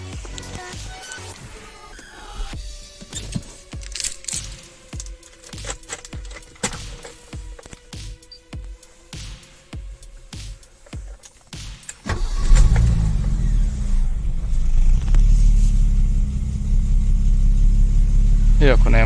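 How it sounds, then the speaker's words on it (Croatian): A 37-year-old BMW E30 with a wind deflector, fitted to the car, cranks after a stretch of clicks and shuffling, then settles into a loud, steady idle that runs to the end, with nobody talking over it. "Evo, snimit ćemo jedno paljenje."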